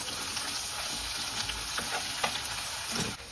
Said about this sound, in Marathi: परतून घ्यायचा आहे।